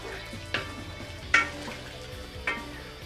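Seasoning stirred into oxtails in a pot, a sizzling bed broken by three sharp scraping clanks of a spoon against the pot, spaced about a second apart, with no talk.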